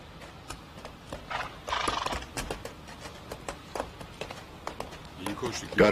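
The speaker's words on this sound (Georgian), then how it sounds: "ძალიან ლამაზი ცხენია." A horse gallops with quick, uneven clip-clop hoofbeats and lets out neighs, fairly close, with voices speaking over parts of it.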